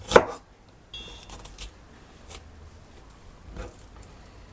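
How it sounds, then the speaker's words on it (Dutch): Knife chopping onions on a board in a home kitchen: a sharp first cut followed by a few scattered, quieter chops and knocks with pauses between them, no talk. "Uien snijden, dit is echt een mannentaak."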